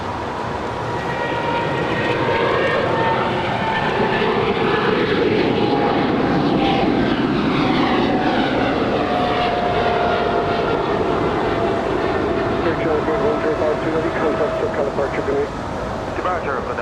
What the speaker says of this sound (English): Air China Cargo 777, flight 1052, now rolling down runway 25 right to Shanghai